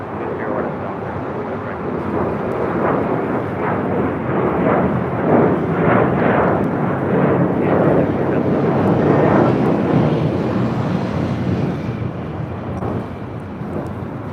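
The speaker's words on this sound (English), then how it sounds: "Have a Alaska 737 taking off, heading to Guadalajara." An Alaska Airlines Boeing 737 takes off at LAX, bound for Guadalajara, with a sustained loud engine roar rumbling steadily for the whole stretch; a voice speaks over it.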